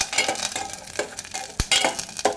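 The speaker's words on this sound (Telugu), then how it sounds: "డ్రై ద్రాక్ష, జీడిపప్పు, బాదం పప్పు వేసేసుకోవాలి. వేసుకున్నాక వీటిని వేయించుకోవాలి." Raisins, cashews and almonds stirred and frying in a pan, a steady close sizzle broken by scraping stirs and a few sharp clinks of a utensil against the pan, with no talking.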